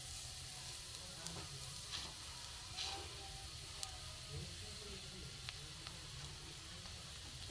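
Cumin seeds crackle in hot mustard oil with a soft, continuous sizzle and scattered faint pops, heard close but at low volume.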